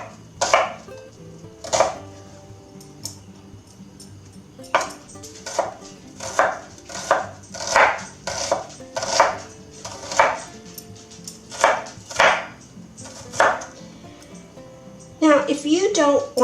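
A whole onion chopped with a knife for salsa, with a steady run of about a dozen crisp, evenly spaced knife strikes on a board, close and clear, ending in some clattering.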